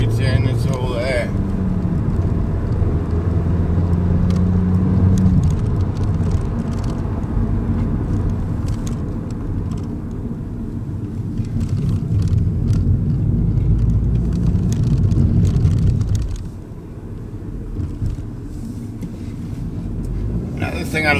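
An Audi A1 S-line hatchback engine roars and builds under hard acceleration, with rumbling exhaust and wind noise, then drops off abruptly near the end.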